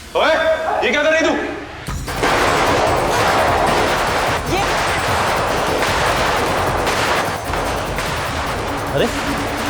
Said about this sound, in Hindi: इतनी रात को ये पटाखों की आवाज